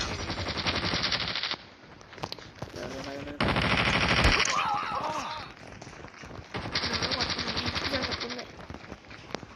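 Rapid automatic gunfire in the mobile shooter Call of Duty Mobile comes in loud sustained bursts with short pauses between them, mixed with game sound effects and some in-game voice lines.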